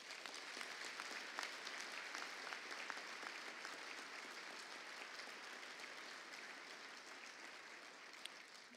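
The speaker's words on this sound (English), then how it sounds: "So let's give them again a round of applause." A hall audience at a Black Engineer conference claps in a sustained round of applause, a dense, even patter of many hands heard from a distance and holding steady for the whole stretch.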